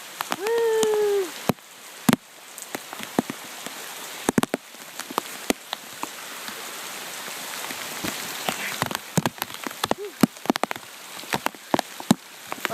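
Steady rain falls and patters on surfaces in an outdoor spot, a continuous hiss broken by frequent sharp drop impacts. A short tonal whoop rings out near the start, and a brief tonal blip comes later.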